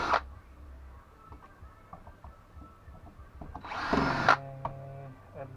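A power tool unscrews fasteners while scrap electronics are taken apart, with a brief burst at the start and a louder whirring run of about half a second near the end, plus quiet handling noises between them.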